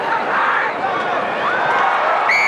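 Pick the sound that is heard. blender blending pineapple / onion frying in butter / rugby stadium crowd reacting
rugby stadium crowd reacting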